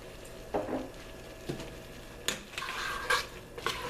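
White wine hits a pan of bolognese sauce, giving a soft, low sizzle with scattered stirring scrapes and light clinks of a utensil against the pan.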